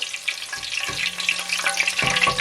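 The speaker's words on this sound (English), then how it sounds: "So I'm just stirring the garlic and the pepper around a bit to ensure that the flavor" Garlic and pepper fry in hot oil with a dense, crackling sizzle while a utensil stirs them, giving occasional scraping knocks over the steady hiss.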